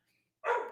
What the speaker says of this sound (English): I'm sorry for the dog screaming in the background.